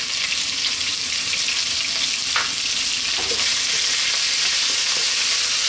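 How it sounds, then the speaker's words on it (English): Chopped red onion and salt fry over lively heat in a pan for saag aloo, a steady, loud, close hiss of sizzling that carries throughout with only occasional faint stirring clicks. "Next up, we're going to drop in our onion. I'm using a red onion."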